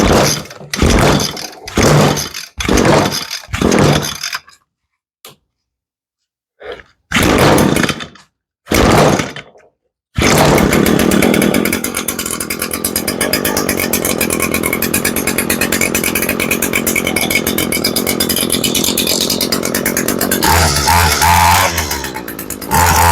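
An Echo PE225 gas edger, just fitted with a new fuel line after leaking gas and refusing to run, is yanked on its pull cord several times in quick strokes, falls quiet, then fires up and runs loud and steady.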